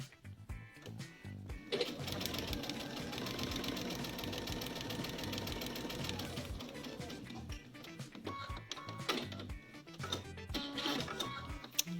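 A sewing machine runs steadily for about five seconds while stitching a quilt-as-you-go border of peach and background fabric pieces, with quieter handling and fabric rustling before and after.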